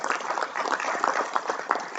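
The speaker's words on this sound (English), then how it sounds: "Let's give them a round of applause too." A small audience at a school board of education meeting gives a brief, steady round of applause, a dense patter of clapping heard at a moderate distance.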